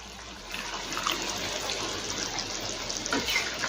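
Hot water pours into a cooking pot of Bengali mourala fish bati chochhori, a steady close splashing gush that runs for a few seconds with slight surges in flow.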